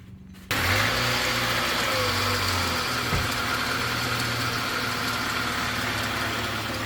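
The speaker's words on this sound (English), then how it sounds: "we're going to start it up and make sure that it turns the engine over" A Toyota Tarago (Previa/Estima) van engine starts just after a half-second of quiet, then settles into a steady, close idle with a low rumble and slight vibration.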